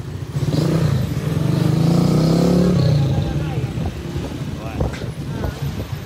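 Motorcycle engines revving loudly in a street exhibition during a curfew patrol, a rough rising roar that swells then settles into sputtering idle, with people talking over it.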